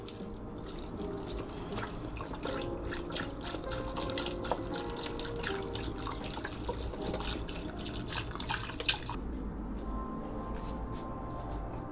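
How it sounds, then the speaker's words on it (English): Chicken broth poured into a soup pot of potatoes for baked potato soup, a steady liquid splashing and gurgling with small drips, moderately close, continuing for several seconds before easing slightly near the end. "And then add your chicken broth."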